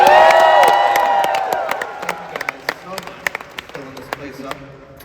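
A large audience at a live reading cheers with a loud swelling whoop, which fades into scattered clapping and a few claps near the end.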